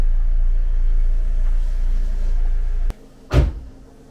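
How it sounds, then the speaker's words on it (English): A Mazda Miata's engine rumbles steadily up close, then cuts off abruptly, followed by a short, sharp knock or thump a moment later. "It's time to back the Miata"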